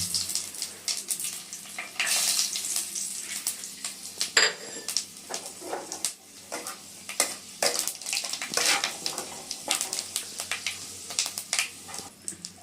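Panch phoron and dried red chillies crackle and sizzle in hot oil in a pan, with busy stirring scrapes and utensil clatter throughout; no one speaks.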